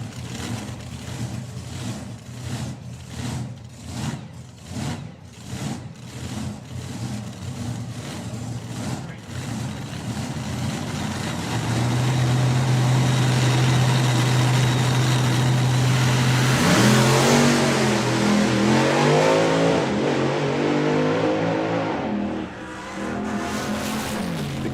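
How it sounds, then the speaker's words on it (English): A drag racing car at the NSRA Hot Drags idles with a lumpy, pulsing burble, then revs hard and roars up through the gears in a loud, aggressive run, with a commentator talking underneath. "The car does sound super aggressive."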